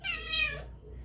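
Kitten meowing indoors near its mother cat, a single drawn-out, high, wavering meow that is close and fairly loud, fading out after about half a second into quiet room tone.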